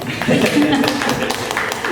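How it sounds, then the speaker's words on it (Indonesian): An audience at a school literacy podcast session claps briefly, scattered sharp hand claps mixed with voices and a short vocal tone near the start. "Tepuk tangan dulu kita."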